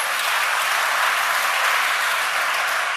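Steady, dense applause from a church congregation, sustained and fairly even throughout, with no voices over it.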